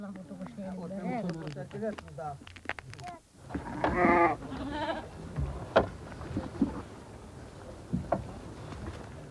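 Goats bleat several times in wavering cries, close by, mixed with a voice speaking and some background rustling, in the Taklamakan Desert region.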